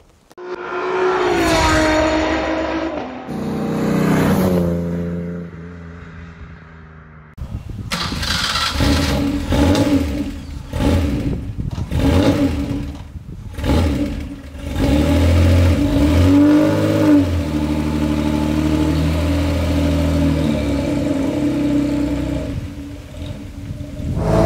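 A 1939 BMW 327/28 six-cylinder convertible with a 2-litre aluminium-head engine starts up and drives off, its motor revving loudly and steadily up close, with a brief voice near the start.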